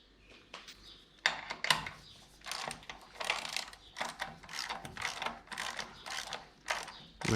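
Bolts being tightened with a ratchet on a Heidts Mustang II front brake assembly: intermittent bursts of close mechanical clicking and ratcheting, separated by short pauses, with no talking.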